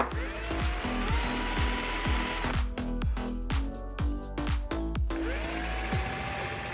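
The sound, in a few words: power drill widening screw holes in a board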